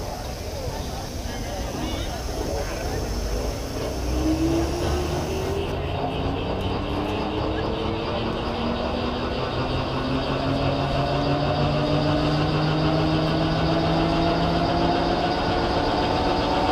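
A jet-engine powered semi truck roars loudly and steadily throughout, with rising engine tones sweeping upward as it accelerates on a track, captured from onboard the cab.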